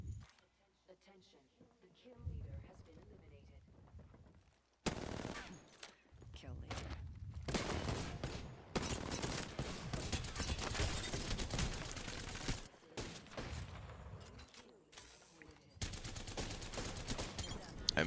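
Video game gunfight with rapid automatic fire: long sustained bursts of loud shots after a quieter opening, broken by brief pauses, with a voice talking over parts of it.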